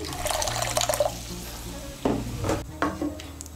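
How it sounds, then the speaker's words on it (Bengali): Hot water from a rinsed spice bowl is poured into a pot of potato and pointed gourd curry, a splashing, sizzling pour with a low hum underneath and a few sharp clinks and splashes toward the end. "আমি মশলার বাটিটা ধুয়ে এর মধ্যে জলটা দিচ্ছি।"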